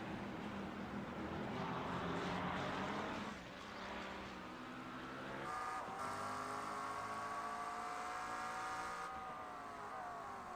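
McLaren GT3 race car recorded from its nose camera while racing at Sebring International Raceway, engine droning loud and steady with rising revs as it upshifts, with other GT3 cars close behind in a tight battle.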